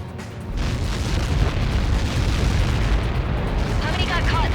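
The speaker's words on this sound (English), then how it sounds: "How many got caught in that explosion?" A missile impact explodes in the Ace Combat 7 air-combat game, a loud, sustained rumbling blast that fills the whole stretch with deep booming noise.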